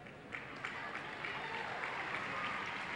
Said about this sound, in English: The crowd gives her a round of applause